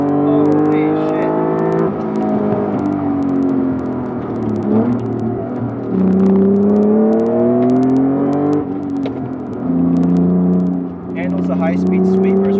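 A modified 3-liter car engine drives hard, its loud, close harmonic drone sweeping up and down in pitch through repeated pulls and shifts for the whole stretch.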